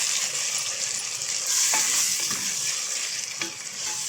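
Garlic paste and onion sautéing in a pan give a dense, even hiss of frying, with a few soft stirring scrapes, close up and steady with no talking.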